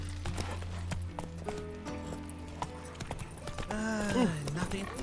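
Roach, a horse in a video game, gallops with rapid rhythmic clip-clop hoofbeats and snorts, then a brief whinny near the end, under a voice talking.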